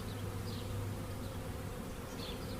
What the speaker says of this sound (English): Look at the amount of bees that we're getting.